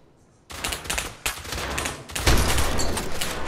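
Rapid bursts of automatic gunfire in the VR shooter game Pavlov, loud, dense and close, with a short pause between volleys before firing resumes.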